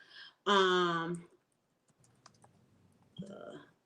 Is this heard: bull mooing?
no